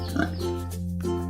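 A pig grunts and oinks in a few short, close snorts over a steady low hum.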